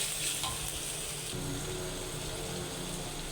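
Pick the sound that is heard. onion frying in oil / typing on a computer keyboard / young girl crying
onion frying in oil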